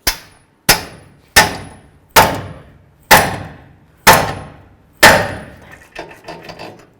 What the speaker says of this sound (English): we're going to continue on with a pickle fork and a hammer